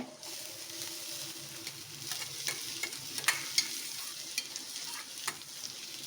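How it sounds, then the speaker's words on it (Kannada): Onions fry with horse gram in a pan, a steady close sizzle broken by light scraping and tapping as a spoon stirs the mixture, with no speech. "ಈರುಳ್ಳಿ ಸ್ವಲ್ಪ ಹುರ್ಕೊಳ್ಳೋಣ"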